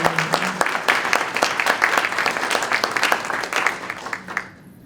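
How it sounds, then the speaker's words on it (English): An arts event audience claps for themselves, a dense burst of applause that holds steady and then fades quickly to silence at the end. "So can we clap for ourselves?"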